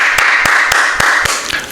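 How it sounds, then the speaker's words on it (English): Six slow, evenly spaced claps ring out loud and close over a steady hum. "Let's clap one more time for that."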